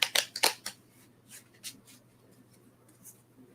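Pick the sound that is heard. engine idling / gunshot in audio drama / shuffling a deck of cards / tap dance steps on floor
shuffling a deck of cards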